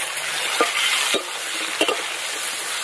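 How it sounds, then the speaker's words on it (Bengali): Potatoes frying in a pan with cumin, bay leaf, dried chilli, salt and turmeric, a loud steady close sizzle broken by a few sharp scrapes of a stirring spoon; no talking. "আলুগুলোকে ভেজে নেবো"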